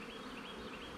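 Honey bees on a hive frame during an inspection, a dense continuous buzzing swarm close by and steady, no voices.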